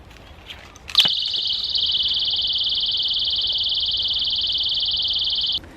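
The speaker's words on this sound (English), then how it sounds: "anybody that walks through is going to set off your alarm" A piercing high-pitched Robocopp personal security siren starts abruptly and blares continuously at full volume for several seconds, then stops.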